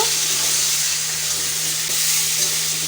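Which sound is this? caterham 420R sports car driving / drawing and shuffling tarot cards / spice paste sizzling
spice paste sizzling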